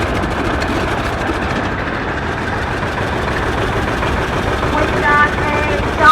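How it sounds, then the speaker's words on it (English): A 1952 John Deere R antique tractor rolls along a roadway in a parade, its heavy engine giving a steady, continuous low rumble that holds loud and even throughout. "Here comes another John Deere."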